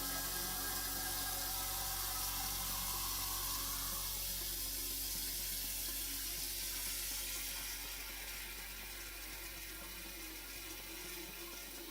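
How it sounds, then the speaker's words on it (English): Water from a kitchen sink tap pours into a sink holding a plate and a couple of bowls, a steady, loud, close rushing hiss that eases slightly toward the end, with no talking. "Water's so loud pouring."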